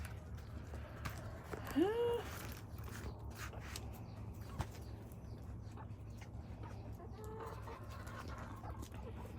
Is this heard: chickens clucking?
yes